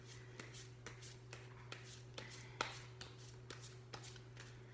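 Soft, quiet shuffling of animal spirit oracle cards, with light riffling taps at irregular intervals over a low steady hum.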